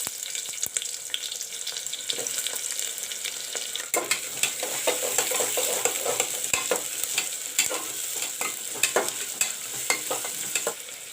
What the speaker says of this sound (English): Oil is turned hot. I will put in the onions.